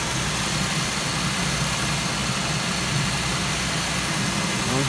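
Engine of a 2004 Chevy Venture minivan idles steadily while warming up after a heater hose replacement, a constant close rumble with no voices.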